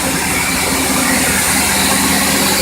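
A PVC wire production machine for small 0.5–6 mm² flexible electrical wire runs steadily, giving a loud, continuous mechanical drone and hiss with no break or change in level, and no voices are heard.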